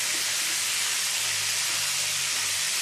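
Boiled arum stalks frying with jackfruit seeds and onion in a pan for a Bengali ol data posto, giving a steady, even sizzling hiss that runs unbroken throughout with no voices.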